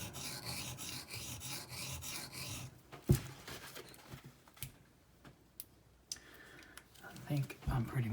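A ZT 0620 tanto-style folding knife with an Elmax steel blade is stroked against a sharpening stone in rhythmic raspy passes, quiet and close, then gives way to scattered taps and handling clicks.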